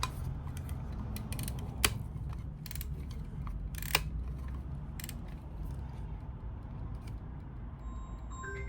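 Faint mechanical clicking and ratcheting from a small watch mechanism being wound, with a couple of sharper ticks over quiet background hiss.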